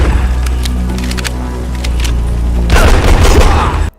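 Glock 17 pistol gunfire in the shooter game Project IGI: a string of quick, close, sharp shots over steady background rumble, ending in a denser flurry of loud cracks before cutting off abruptly.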